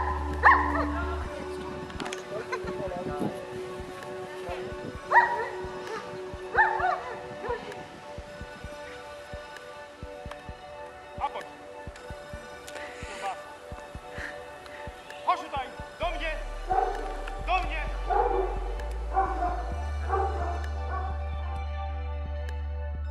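A dog barks and whimpers in short bursts during an obedience exam training session outdoors, with a handler giving spoken commands over it throughout.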